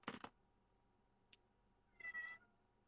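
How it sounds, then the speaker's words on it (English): A domestic cat meows in the background during a makeup session, with a clear cry at the start and another about two seconds in, separated by a quiet stretch and a brief faint click. "Can hear my cat meowing in the background"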